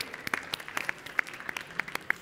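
A conference audience gives sparse applause after a talk on 5G cities: scattered, distinct claps at an uneven rhythm, fairly close, rather than a full ovation.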